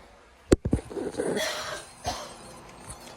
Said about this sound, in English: You heard the cough rather than the film.